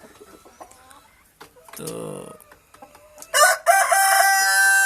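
Desi hens of the Golden Misri breed clucking on a Pakistani poultry farm, with a rooster crowing loudly near the end after a short burst of bird calls; someone speaks briefly at the start.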